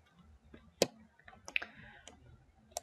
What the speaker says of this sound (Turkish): Tamam butonuna tıklıyorum.